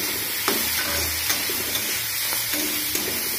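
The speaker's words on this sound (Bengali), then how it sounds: "এখন এটা কিন্তু উস্তে ভাজছি" Bitter gourd seasoned with salt, turmeric and chilli fries in a covered pan, giving a steady close sizzle with a few soft stirring clinks and no talking.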